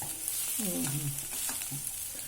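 Dried red chili crackles and sizzles in hot oil for South Indian tempering, a steady close frying hiss with a few soft stirring scrapes.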